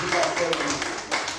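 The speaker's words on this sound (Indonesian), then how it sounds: "Tepuk tangan yang meriah" Audience clapping at an Indonesian gathering, a brief burst of many hands applauding close by, with voices mixed in underneath.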